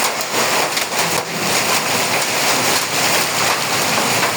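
Heavy hailstorm in Ashulia, Jirabo, with hailstones pelting down in a dense, continuous loud clatter and hiss, close and unbroken, with no voices.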